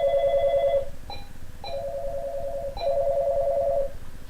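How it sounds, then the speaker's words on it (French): A telephone rings on a call-in radio line: three loud, clear electronic ringing bursts separated by short gaps, close and alone over a quiet background. "Oh, ça sonne, je crois."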